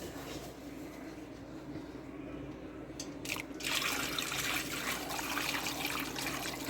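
Grape jelly poured from a pan into a bowl in a home kitchen, heard as a soft, steady liquid trickle and dribble that swells louder midway, with no voices.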